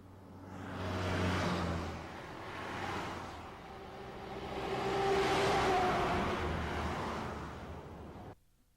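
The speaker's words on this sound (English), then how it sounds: "the noise produced by road traffic" Road traffic passes in a series of vehicle swells, each car or truck rising and fading with a whooshing drive-by, three broad surges over several seconds before the sound cuts off abruptly.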